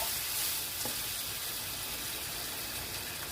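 Beef and potatoes cooking in a pot for Filipino adobong baka give a steady bubbling sizzle, with one faint clink partway through.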